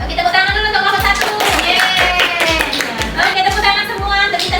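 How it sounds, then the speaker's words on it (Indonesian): A classroom of students claps for group 1, steady dense applause of many hands sounding close and loud, with a few voices mixed in. "Oke, tepuk tangan dulu untuk kelompok 1"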